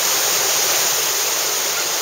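A cold outdoor waterfall and stream rush in a continuous, dense roar, loud and close with no voices over it.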